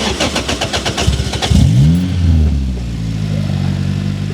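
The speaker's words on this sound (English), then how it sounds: "Driving the turbo 2ZZ Elise." A turbocharged Lotus Elise with a 2ZZ engine cranks with a rhythmic starter whir, then fires and catches, settling into a loud, steady idle close by.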